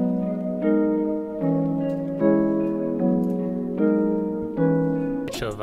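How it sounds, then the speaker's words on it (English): A pitched-down, time-stretched guitar loop at 152 BPM plays mellow repeating chords in a steady rhythm, alone, cut by a short noisy burst at the end. "We pitched it down 2 steps, and we also brought it down from 164 to 152 BPM."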